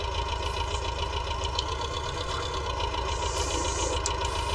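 An older, cheap tractor in a farming video game runs at a steady idle, its engine chugging evenly and close with a constant rumbling drone and no talking.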